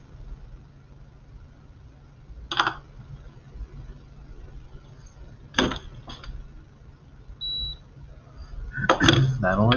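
Food coloring is stirred through cups of water, giving a few short glassy clinks and scrapes spaced across a steady low background hum, with a denser rattle of clinks near the end.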